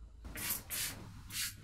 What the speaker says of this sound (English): Just gonna spray that all over.